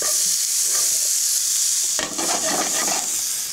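Onions hitting hot extra virgin olive oil in a preheated sauté pan, a constant bright sizzle that flares louder about halfway through as they land and crackle, with no talking.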